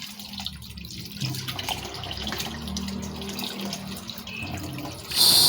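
Tap water runs continuously into a sink while fish is washed by hand, with a steady splashing rush, some handling noises, and a louder burst of flow at the end; no speech.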